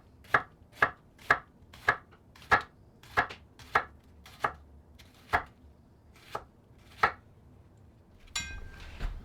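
Red onions are chopped with a Japanese santoku chef's knife on a board, about a dozen sharp, close knocks in an uneven rhythm, followed by a brief clatter at the end; no one speaks.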